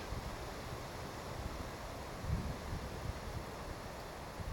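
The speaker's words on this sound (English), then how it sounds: "very windy" Steady wind blows across a microphone in a park on a chilly autumn day, a constant rushing roar with a few stronger gusts, and no talking.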